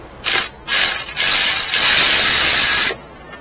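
Ratchet with a swivel socket removing a bolt during radiator replacement on a Jeep Wrangler, close and loud bursts of rapid clicking, two short strokes followed by one long sustained run, with no talk.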